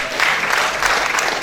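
An audience at a founders' conference claps to welcome a speaker forward, a dense, continuous round of applause from a crowd indoors with no speech over it.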